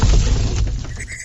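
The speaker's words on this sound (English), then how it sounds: "That was an explosion" An explosion effect: a loud, booming crash with a shattering edge that hits at once and then fades out over about a second.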